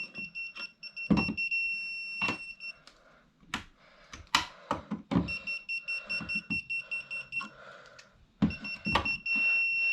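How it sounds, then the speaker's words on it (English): A non-contact voltage tester held to a live wire in an old work box gives repeated high-pitched beeps in three bursts, against faint handling clicks and rustles. "I'm going to take a non-contact voltage tester"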